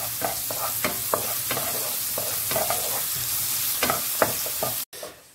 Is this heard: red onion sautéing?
yes